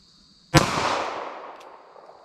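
A single sharp gunshot from a short-barrel .32 H&R Magnum revolver cracks loudly, then decays in a long echoing tail outdoors.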